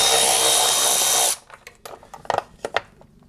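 Power ratchet loosening 12 mm nuts on a 2005 Yamaha G22 gas golf cart, a loud continuous whir that stops abruptly, followed by scattered clanks and clicks of metal parts.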